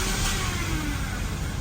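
Honda CRX HF engine catching and revving under a little gas after long cranking, a rough, steady mid-pitched roar up close with no talk over it.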